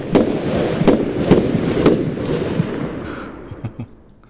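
Roblox Lumber Tycoon 2 fireworks burst in a quick series of four sharp cracks, each followed by crackling sparkle, then a few smaller scattered pops as the display fades out.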